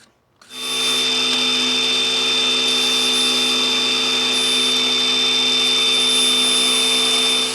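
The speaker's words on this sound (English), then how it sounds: "A little sanding on the grinder, clean it up" A bench grinder sanding bent steel for a motorcycle luggage rack, a steady loud high whine running without a break after it spins up, close by and with no talk.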